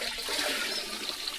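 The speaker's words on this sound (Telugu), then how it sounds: "బెల్లం నీళ్ళు కలుపుతున్నాం ఇందులో." Jaggery water being poured into a Gokrupamrutam mix for organic farming, a steady close splashing and trickling stream of liquid with no voices.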